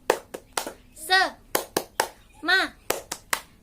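Children at a scouting activity perform a rhythmic spirit clap: sharp hand claps in a set pattern, close and clear, alternating with short chanted words.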